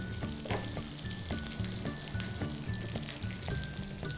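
Mustard seeds spluttering and popping in hot oil alongside curry leaves and cashews, a continuous close sizzle broken by quick crackling bursts and occasional stirring clinks.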